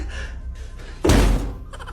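One heavy thud as a person bumps into a door, loud and close, with quieter room sound before and after.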